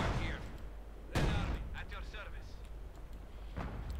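Artillery barrage in the World War II strategy game Company of Heroes 2, hitting Obersoldaten infantry: one heavy booming blast with a rumbling tail, then several fainter distant impacts.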